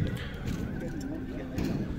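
Horses and mares neigh at an open horse market in Sokuluk, Chüy, with hoof clatter and crowd voices throughout; whinnies rise over steady background talk.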